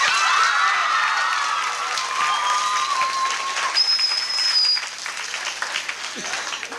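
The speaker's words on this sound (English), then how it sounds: "So let's give them a big clap." Steady applause from a large audience at a middle school spring concert, with some scattered cheers and shouts rising above the clapping before it tapers slightly.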